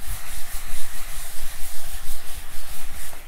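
Something is rubbed back and forth over a painting's surface to clean it, close and loud, in quick repeated strokes with a soft, hissing scrape and no talking.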